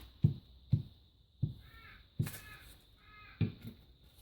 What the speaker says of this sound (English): That's my crow. He's out in the garden yelling at me because he wants to be fed.